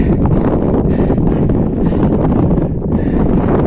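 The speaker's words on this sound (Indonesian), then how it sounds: "Karena cuacanya badai angin kencang ya." Strong, stormy wind on Mount Kerinci roars steadily into the microphone, buffeting it loudly and continuously with gusty rumble throughout, no voices heard.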